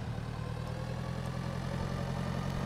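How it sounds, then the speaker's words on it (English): A tractor engine in Pure Farming 2018 idles at a steady low rumble, constant and moderately quiet, with no talk over it. "going to hop in the tractor"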